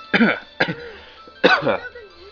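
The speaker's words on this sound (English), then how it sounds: "Damn cough." Three harsh coughs in quick succession from a character in the visual novel Kanon, close and fairly loud, each a short rasping burst with a throaty tail, from a single voice with no other sounds.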